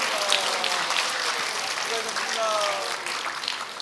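A church congregation applauds, dense sustained clapping from many hands across the room, loud and continuous, with voices mixed in.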